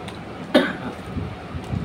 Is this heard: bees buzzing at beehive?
no